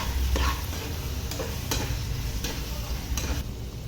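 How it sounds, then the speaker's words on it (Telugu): Spoon stirring ground coriander and garlic powder into a simmering tomato and broad bean curry, a steady low sizzle with several soft scraping strokes spaced roughly every second, close and alone. "ఇప్పుడు దీన్ని బాగా కలుపుకోవాలి."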